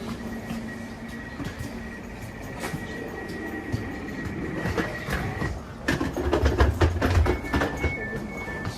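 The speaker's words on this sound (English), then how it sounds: "Train has started. It is going to Paddington." Elizabeth line train pulling away toward Paddington, a steady low rumble and whine building over several seconds, with bursts of rattling and clatter rising near the end.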